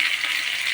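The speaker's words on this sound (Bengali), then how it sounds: "কিছু সময় নাড়তে লাগলাম" Spices sizzling in hot oil for a Bengali green banana and fish dish while being stirred, a steady close hiss with faint scraping throughout.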